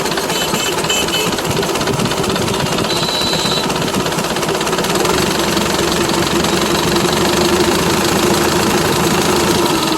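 An Eicher 1080 tractor engine, rusty from standing unused, runs steadily with a loud, close, continuous rattling knock and no pauses.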